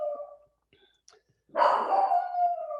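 A rescued dog barks in a burst of loud, rough yelps after a short quiet gap, following a faint vocal sound at the start.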